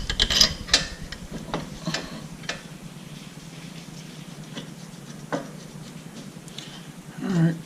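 Bolts being tightened on a Porsche 911 Carrera rear brake caliper, a series of close metallic ratchet clicks and ticks at an uneven pace, louder at the start, over a low background hum.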